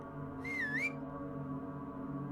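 A single low, faint whistle sounds from a distance in a quiet setting, a short wavering tone that dips and rises once over a steady background hum.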